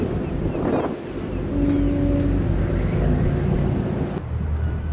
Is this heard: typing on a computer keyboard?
no